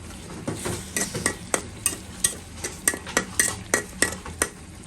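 Chicken pieces and blended onion paste sizzle in a pan while a spatula or spoon scrapes and stirs in a steady run of clinks. The strokes are close and distinct, with a soft frying hiss underneath and no talking.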